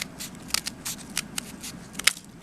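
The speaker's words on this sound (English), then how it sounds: "Take your scissors and cut those off." Scissors snip through paper in a kids' snowflake craft, a quick series of short, crisp cuts heard close up and fairly quiet, with no talking.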